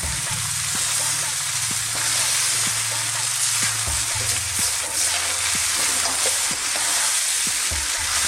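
Cooked rice with seeds and herbs gets stirred in a hot pan for sweet potato rice, a steady loud sizzle and crackle running throughout with repeated scraping strokes and a low hum underneath.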